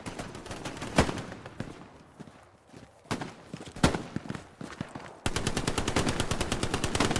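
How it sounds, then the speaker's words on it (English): Bursts of rapid automatic gunfire in the video game Hell Let Loose, scattered single shots and rattling volleys at middling distance, ending in a sustained fast-firing stretch, with little else around it. "There's lots of gunfire over here."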